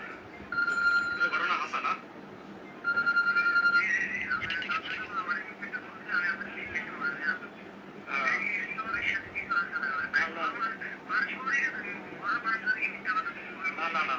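A telephone ringtone sounds in two short tonal bursts near the start, followed by steady conversation that carries on over a faint background.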